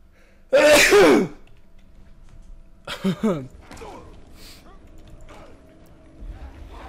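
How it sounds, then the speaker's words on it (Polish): A single loud, sharp human sneeze close by, followed by a few softer breathy exhalations over a quiet background while a player is in a session of Middle-earth: Shadow of Mordor. "Aż se kichnąłem."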